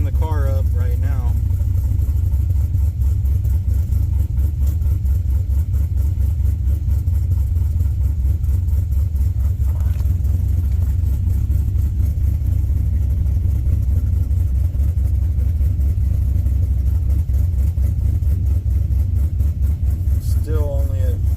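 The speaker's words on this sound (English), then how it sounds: "I'm just trying to warm the car up right now." A car engine idling steadily while it warms up during diagnosis of an O2 sensor issue, a constant low rumble running unbroken and close for the whole stretch.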